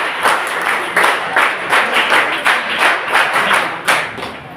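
Loud applause from an audience welcoming lecturers at a college NSS camp event, rhythmic unison clapping in repeated bursts that fade toward the end.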